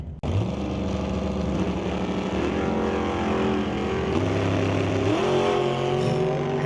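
Super Pro drag racing cars at Mission Raceway Park launching off the line, engines roaring up loudly and holding a powerful, rising drone with gear-change steps.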